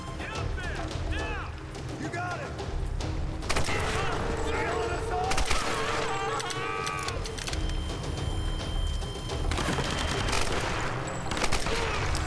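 Rapid bursts of gunfire crackle through a firefight in the video game Tomb Raider 2013, loud and continuous with scattered impacts and game sounds, while a voice talks over parts of it.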